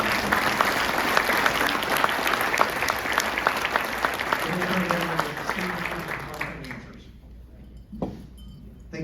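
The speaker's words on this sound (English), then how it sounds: "Can you give our panelists a round of applause?" An audience at an economic forecast event claps for a panel of speakers, a dense, lively round of applause that fades out over several seconds, with a faint clink of glassware and a voice beginning to speak afterward.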